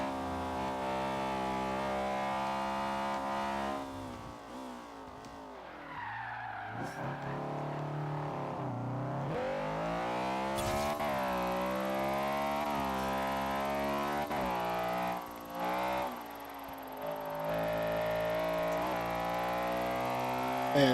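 A close-ratio race car in the Forza Horizon 3 video game revs up through its gears, its engine whine climbing and dropping back with each quick shift in a repeated rising pattern.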